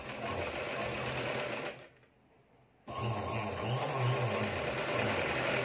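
A sewing machine stitches a lining strip onto the main fabric with a rapid, steady mechanical whir. It pauses for about a second before running again, close and clear.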